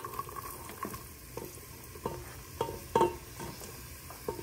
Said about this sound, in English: you want your garlic to sizzle, but you do not want it to turn brown